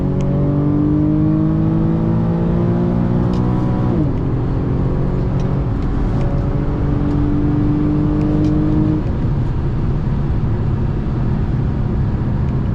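An Infiniti car in manual mode, revving hard under acceleration with stepped gear changes, steady loud engine drone rising and dropping in pitch inside the cabin, no talk.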